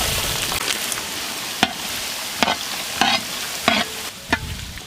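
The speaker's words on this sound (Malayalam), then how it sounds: "ഇനി കുറച്ച് കടുക് ഇട്ട് കൊടുക്കാം, കുറച്ച് ഉലുവ, കുറച്ച് വെളുത്തുള്ളി" Mustard seeds with fenugreek and garlic crackling in hot oil while making Kerala fish pickle, a steady sizzle broken by several sharp pops and spatters spaced through the stretch, no voices.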